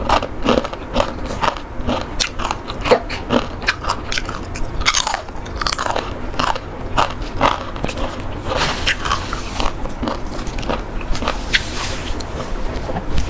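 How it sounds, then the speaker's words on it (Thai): Crispy fried purple sweet potato and pumpkin being bitten and chewed up close, with a steady run of sharp crunches and crackles repeating throughout, and no talking. "วันนี้ก็มากิน มันม่วงทอดกรอบ ฟักทองทอดกรอบ"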